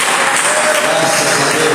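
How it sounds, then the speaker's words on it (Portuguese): A church congregation at an evening service claps together for Jesus, a dense, steady wash of applause filling the room with a faint tonal hum beneath, no distinct voices standing out. "quem pode dar uma salva de palmas bem perto para Jesus"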